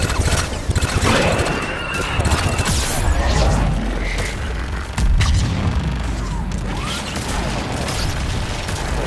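Missile strikes pound the battlefield in Mass Effect 3 during the fall of Thessia, a dense, continuous roar of blasts and heavy impacts with repeated booms over mechanical battle noise.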